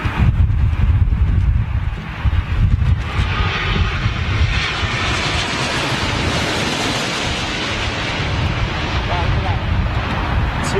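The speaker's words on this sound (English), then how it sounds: "Two Emirates A380s in at London Heathrow." Emirates Airbus A380 jet at a windy London Heathrow, a loud steady broadband roar of jet engines with strong low rumble, continuous throughout with wind buffeting the microphone.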